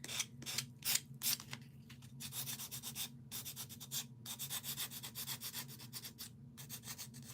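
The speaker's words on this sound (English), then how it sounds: "We are going to sand them a little bit here, too." A handmade craft piece is sanded by hand, with rhythmic back-and-forth rasping strokes, close and fairly quiet, coming in quick bursts at first and then settling into a steady repeating scrape.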